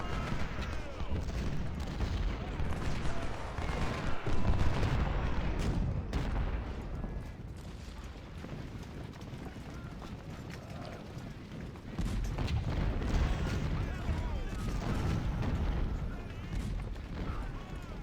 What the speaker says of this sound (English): Fire at these guys, please